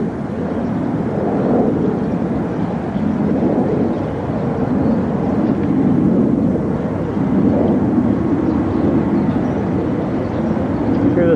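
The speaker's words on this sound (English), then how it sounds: "Hear this fucking jet from behind me." A jet aircraft roars through the sky on the morning of the September 11 World Trade Center attacks. It is a loud, sustained low rumble that swells and eases slightly without any break.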